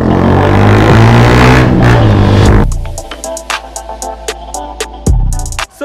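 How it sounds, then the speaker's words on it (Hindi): A Yamaha FZ motorcycle fitted with a loud aftermarket exhaust revs hard and close for a few seconds, then drops to a lumpy idle with sharp pops and clicks before a final brief rev. "भाई लोगों को एग्जॉस्ट का जो कि है साउंड सुना देते हैं"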